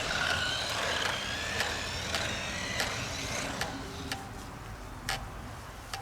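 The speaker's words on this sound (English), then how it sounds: "So, testing the Buggy here." A Simrex CR-08 off-road RC buggy driving at its lowest speed setting, giving a steady whirring motor hum with regular ticking clicks throughout.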